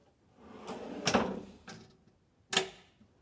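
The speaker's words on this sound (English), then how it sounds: "So this is also slam latch and soft close. So this is just a big extra storage drawer" A big storage drawer in a van's kitchen galley, fitted with a slam latch and soft close, slides shut with a few soft knocks, then clicks once sharply as the latch catches. The sound is quiet and nearby.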